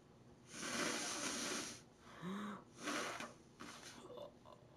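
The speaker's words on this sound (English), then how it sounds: "If you do hear me sniffing or blowing my nose in a rag" Someone sniffing and blowing their nose into a rag, a few close, breathy bursts of airy rushing with short pauses between them, faint and alone without talk.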